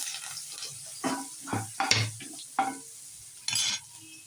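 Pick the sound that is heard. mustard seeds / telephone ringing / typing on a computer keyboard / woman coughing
mustard seeds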